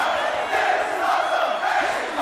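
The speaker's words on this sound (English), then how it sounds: "the crowd are chanting here" A wrestling crowd chants together in an arena, a dense, loud roar of many voices swelling in uneven waves throughout with no single voice standing out.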